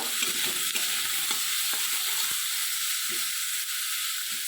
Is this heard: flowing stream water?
no